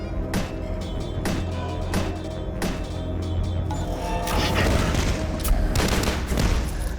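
Gunfire from the first-person shooter Dusk, a rapid run of loud booming shots that thickens into sustained, near-continuous firing with crashing impacts, alone with no talk.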